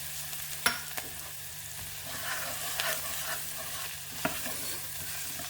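Spices tossed into a pan of red lentil pottage, a soft continuous sizzle with a few sharp clicks and stirring scrapes, close and moderately loud.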